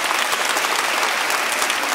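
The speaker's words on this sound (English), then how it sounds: "I want you to give them a round of applause" An audience at a high school football recognition night claps steadily for the coaching staff, a dense, even round of applause with no voices standing out.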